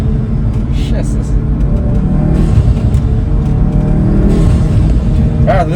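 An Audi A3 fitted with a new intake accelerates hard in dynamic mode, its engine a loud, steady rumble that builds throughout, heard from inside the car with brief talk over it.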